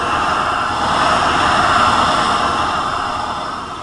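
A toy train rolls along the track in the game Rolling Line, a steady rumbling drone that swells slightly and then fades, with no one talking over it.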